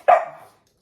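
YoYo, a pet dog in a training session, lets out a single sharp bark on command, close and fairly loud, followed by quiet.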